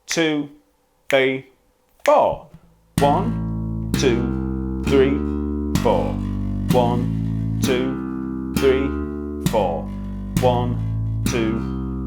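Bass guitar quarter notes played with a thumb rest stroke, a steady series of about ten evenly spaced plucked notes, close and clear, after a spoken count-in that continues over the notes.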